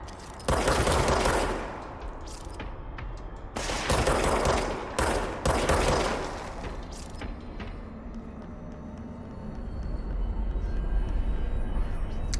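Enemy gunfire in the video game Control: loud bursts of rapid automatic fire in several heavy volleys, broken by short pauses, then fading into a lower rumbling tail.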